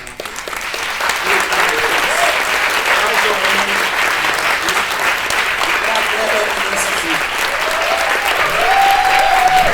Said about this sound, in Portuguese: queria pedir aplausos aqui para Clara Lima.